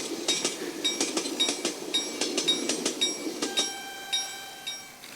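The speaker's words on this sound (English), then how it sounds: "you need some train sounds." Recorded train sound effect for a Raspberry Pi–controlled Lego train: steady rhythmic clickety-clack of wheels over rail joints, then a horn tone swells in near the end, playing alone without voices.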